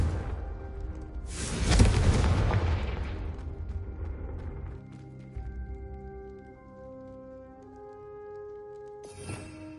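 A Confringo blasting spell from a Harry Potter video game goes off as a loud burst of explosive noise that booms briefly, then rumbles and fades over several seconds, followed by quieter lingering tones and a short final crackle.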